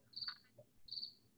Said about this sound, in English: What sound do crickets make?